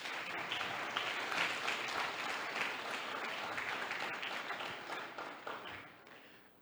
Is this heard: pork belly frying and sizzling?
no